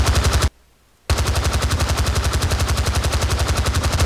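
Rapid automatic weapon fire from an animated avatar gun in VRChat, loud and close, with one short burst, a half-second pause, then a long steady stream of evenly spaced shots.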